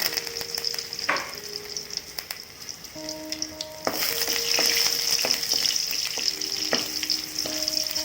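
Mustard seeds, small shallots and curry leaves sizzle and spatter in hot oil in a kadai for an Indian potato gravy, a steady close frying hiss with scattered pops that grows louder partway through, with no talk.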